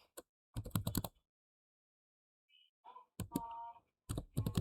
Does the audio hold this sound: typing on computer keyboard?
yes